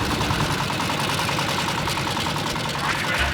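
A motorboat engine roars loud and close, holding a steady, rough drone throughout with no break.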